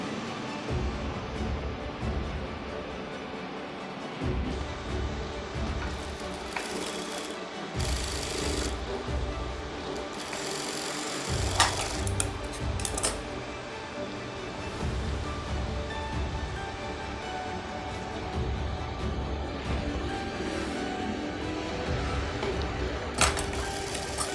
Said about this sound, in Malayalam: നമുക്ക് ഇനി ഇത് സ്റ്റിച്ച് ചെയ്യാം.